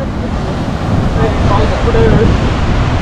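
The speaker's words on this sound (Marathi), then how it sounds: "समुद्राच्या लाटा तर एकच नंबर." Sea waves roll onto Malvan beach in rainy, windy weather, making a loud, continuous rushing roar with heavy wind buffeting the microphone. The surf swells slightly midway through.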